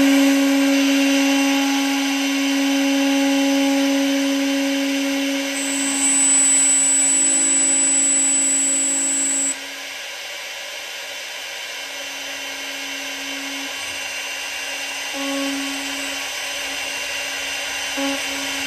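A CNC router spindle mills a screw recess for a magnetic bottle opener, a steady high motor whine with a brief louder cutting stretch midway, then a lower hum that continues alone.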